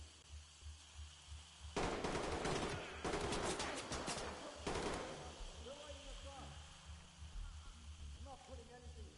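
A grenade launcher fires repeatedly in the tactical shooter game Ready Or Not, a burst of loud sharp blasts and gunfire in the middle, followed by quieter game sounds.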